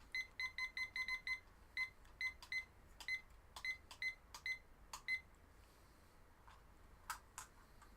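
An electronic timer on a model painting desk gives rapid bursts of sharp, high beeps in quick clusters, quieter and more scattered toward the end, heard close and alone without talk.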